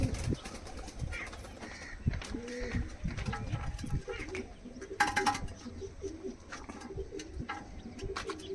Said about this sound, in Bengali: একদম অ্যাক্টিভ ছটফটে কবুতর